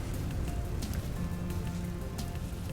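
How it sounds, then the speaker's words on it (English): Steady rain patters across a surface in the video game Vintage Story, a continuous soft hiss heard alone. "More rain? Come on. I don't want rain."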